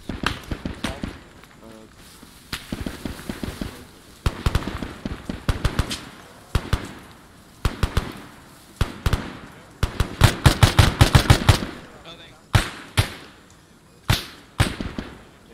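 Bursts of automatic rifle fire and single shots in the Vietnam-era shooter Arma 3 Unsung crack loudly and close, in rapid rattling strings and isolated pops, with voices calling out between volleys.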